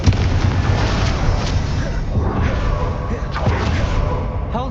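Confringo spell explosion in Hogwarts Legacy, a heavy booming blast with rumbling fire and debris that rolls on for several seconds amid combat noise.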